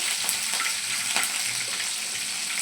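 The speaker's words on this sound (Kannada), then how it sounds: "ಎಣ್ಣೆ ಚೆನ್ನಾಗಿ ಕಾದಿರೋದ್ರಿಂದ ಬೇಗನೆ ಚಟಪಟ ಅಂತ ಇದೆ" Mustard and cumin seeds crackle in hot oil, a continuous fizzing sizzle with scattered sharp pops, close and steady, with no voices.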